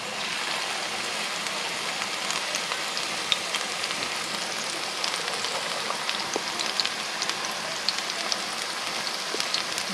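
Cauliflower pakoda deep-frying in hot oil, a steady dense crackling sizzle with scattered pops running throughout, fairly quiet and continuous with no voices.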